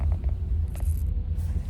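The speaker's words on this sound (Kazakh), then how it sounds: "Қаншама машина." Steady low rumble of many cars moving slowly through heavy, congested traffic on a poor snowy road, heard from inside a vehicle with faint higher hiss from passing traffic.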